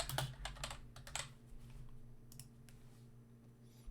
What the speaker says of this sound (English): I should type that correctly.